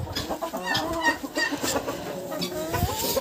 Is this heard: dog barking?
no